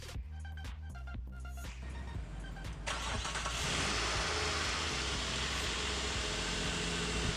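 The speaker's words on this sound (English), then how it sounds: "Now we're going to turn on the car and check if everything is okay." A Nissan Quest engine cranks with a rapid series of starter clicks, catches, and settles into a steady idle, heard up close under the hood after radiator work.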